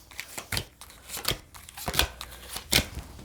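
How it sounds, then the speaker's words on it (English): Tarot cards are shuffled up close in a run of quick, crisp riffling bursts separated by short pauses, with no voices. "Oh my God, you guys saw me shuffle."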